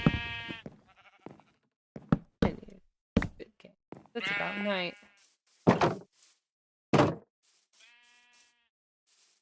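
Sheep in a video game bleat several times with loud, wavering cries, one long and drawn out, spaced between short knocks, while someone talks over parts of it.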